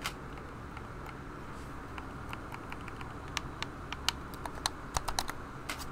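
Computer keyboard typing and mouse clicking come in quick, irregular bursts of sharp close taps over a faint background hiss, growing busier toward the end.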